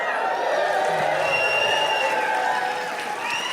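A live audience at a stage show about how game shows work, giving steady crowd noise with scattered clapping and cheering throughout, loud and close, with no clear individual voices.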